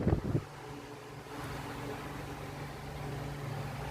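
An electric fan, freshly cleaned, hums steadily at close range with a broad airy whoosh and a low motor drone, starting after a few brief knocks and continuing alone without talk.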